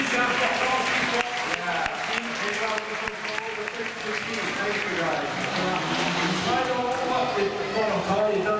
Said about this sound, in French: je crois qu'on peut les applaudir aussi, c'est important ce qu'ils font